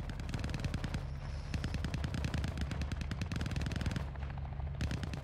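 Rapid automatic gunfire in the video game Call of Duty: Modern Warfare 2, dense bursts of loud clattering shots almost continuous across the clip, with brief pauses and heavy low rumble beneath.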